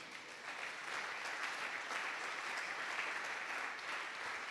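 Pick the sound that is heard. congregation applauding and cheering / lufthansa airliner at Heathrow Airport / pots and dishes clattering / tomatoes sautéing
congregation applauding and cheering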